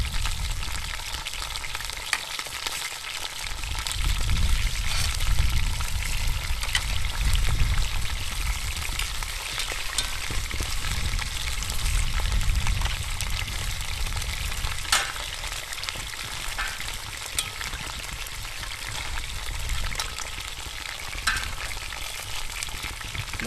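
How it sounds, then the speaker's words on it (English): Pork chops browning in a pan over a campfire setting give a steady, close frying sizzle with crackling spatter, swelling louder in stretches, with no talk. "I'm gonna brown both sides just to seal in all that good pork chop goodness."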